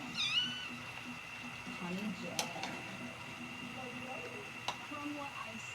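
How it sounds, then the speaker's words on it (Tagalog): A cat meows several times up close in short, rising calls, with soft background noise and faint clatter. "Habang nagluluto ako, kinagat ako ng pusa."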